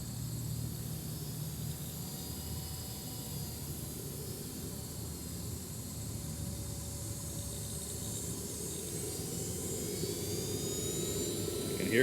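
A Kingtech 100 G2 model jet turbine engine on a test run gives a steady, close roar with a thin high whine running through it, swelling slightly toward the end, with no voices.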